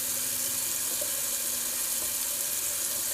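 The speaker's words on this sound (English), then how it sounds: "Run the alum block under some cold water." Cold tap water runs steadily over an alum block, a constant hissing, splashing flow at moderate volume with no voices.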